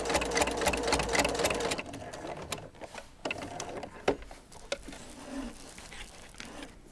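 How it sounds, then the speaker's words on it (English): Sewing machine zigzag-quilting a fabric gnome potholder, a rapid buzzing run of stitches that is loud for the first couple of seconds, then stops and restarts in shorter, fainter bursts with small clicks and handling noises. "I'm going to go ahead and just quilt his nose on with some zigzag stitches"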